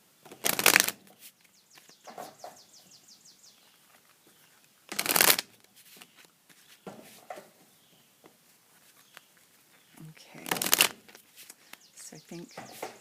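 Tarot cards are shuffled in three sharp riffling bursts, a few seconds apart, separated by softer card handling and light rustling.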